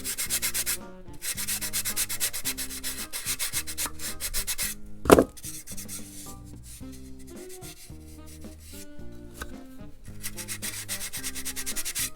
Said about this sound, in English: I can go back and sand this a little bit